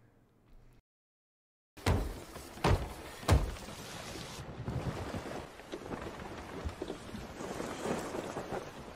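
Wooden clattering and banging as a ship takes damage in the video game Sea of Thieves. After a short silence come several sharp loud cracks, then a continuous rough, noisy wash of creaks and knocks.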